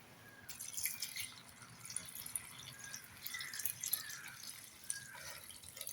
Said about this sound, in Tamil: நாங்க இப்ப பாலை விடுவோம்.